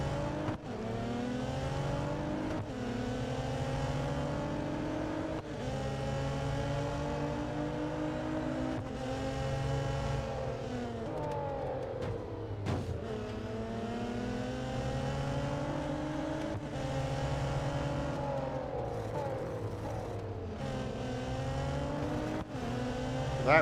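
A race car engine in the Real Racing 3 mobile game revs and shifts gears again and again, the tone climbing and dropping in repeated sweeps, loud and continuous with no talk.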